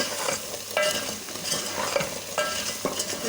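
Potatoes and spices frying in a pan, with a soft sizzle broken by repeated stirring scrapes of a spoon against the pan at a roughly regular pace.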